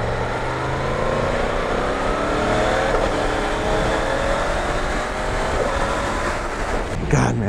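A 1000cc motorcycle with a quick shifter accelerates hard, its engine note rising steadily through the gears with brief shift breaks, loud and continuous under heavy wind noise.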